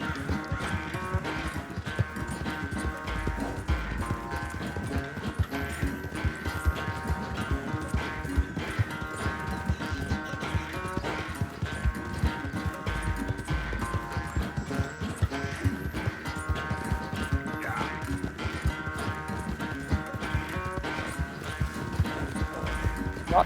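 Horse galloping in Red Dead Redemption 2, a steady run of hoofbeats held for over twenty seconds beneath continuous in-game music, with no talk over it.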